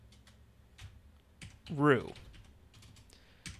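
Sparse computer keyboard key presses click at close range during a Python coding session, with a brief spoken word in the middle.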